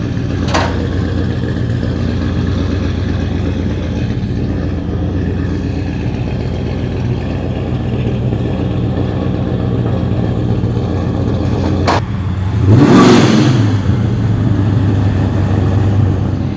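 A car engine rumbles steadily at idle through a deep exhaust, then revs up sharply in one loud surge before settling back.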